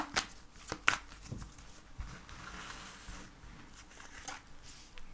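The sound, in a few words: shuffling tarot cards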